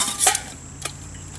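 Metal camping cup handled among haversack kit: a bright clinking rattle, then a single lighter tap, close and fairly loud with no voices.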